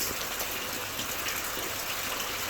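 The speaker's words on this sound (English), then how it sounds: "it was raining so hard" Heavy rain pours down in Jamaica, a loud, dense and unbroken rushing hiss that fills the whole stretch with no voices.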